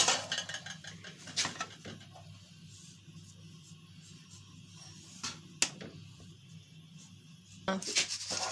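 A spoon stirs ground flaxseed in a bowl for Punjabi alsi pinni, giving soft scraping and rubbing with a few sharp metallic clinks against the bowl, close by and fairly quiet.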